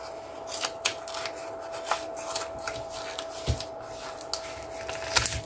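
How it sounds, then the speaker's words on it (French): Scissors cutting paper for a handmade scrapbook album, close and repeated snipping and crisp slicing strokes at an irregular pace, with a steady faint hum in the background and no voices. "Je vais prendre un autre ciseau."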